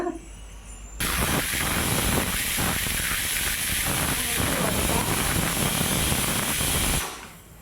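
A pressure cooker whistle, while cooking mixed greens, lets out a loud, steady rush of hissing steam that runs unbroken for about six seconds before cutting off.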